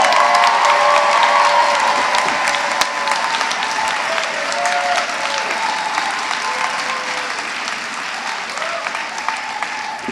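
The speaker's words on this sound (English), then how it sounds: "Now you can applaud." Sustained audience applause at a university graduation ceremony, a dense, steady wash of many hands clapping from a large crowd in a hall, fading gradually over about ten seconds.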